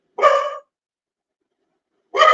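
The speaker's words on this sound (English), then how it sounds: "You guys know you don't want to hear a bunch of barking that is like amplified because of the" Dog barking indoors, echoing off hard floors: two short, loud single barks about two seconds apart with silence between them.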